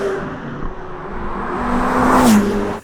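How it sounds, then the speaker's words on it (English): A sports car engine, a C8 Corvette Z06 or Ferrari F8 Tributo, accelerating hard, a close, loud rising whine with the pitch climbing steadily as revs build, then a quick drop near the end. "What I like about this car is that it sounds so good and it pulls."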